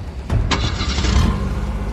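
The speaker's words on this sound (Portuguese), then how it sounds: "Com um dos carros, tentam abalroar o portão, que não serve." A car engine suddenly roars and revs hard as terrorists try to ram the gate of the Turkish embassy in Portugal, a loud, close burst that keeps surging without any speech.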